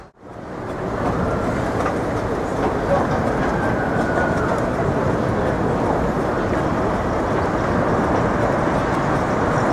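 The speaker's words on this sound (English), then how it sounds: "we took the tramway from the Excalibur to Mandalay" Tram rolling on rails between the Excalibur and Mandalay Bay in Las Vegas, a steady close rumble with faint clattering and a whine that holds for the whole stretch.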